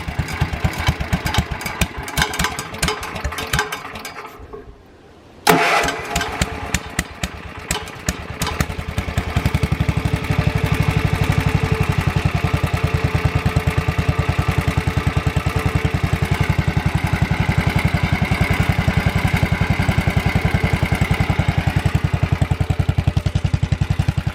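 An old tractor engine sputters and clatters, cuts out briefly, then catches and settles into a loud, steady chugging idle.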